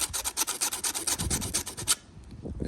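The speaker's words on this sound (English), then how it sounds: "I'm gonna take this sandpaper, and then I'm gonna hit the top of the electrode right here" Sandpaper rasps over the top of a spark plug electrode in quick, even back-and-forth strokes, close and fairly loud, stopping abruptly near the end.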